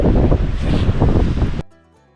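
Strong, cold mountain wind at Meesapulimala roars and buffets the microphone in rough gusts, then cuts off abruptly.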